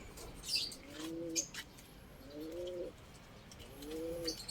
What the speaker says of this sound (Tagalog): So ayan po yung mga ibon labas-masok dito tumatambay